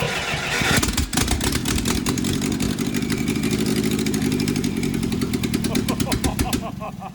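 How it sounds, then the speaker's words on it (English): A 1963 International Scout 80 engine, primed with starter fluid down the carburetor, catches and runs with a loud close rattling idle and uneven revving that clatters on for several seconds. Voices can be heard over the engine. "putting some starter fluid down the carb. And it runs pretty good."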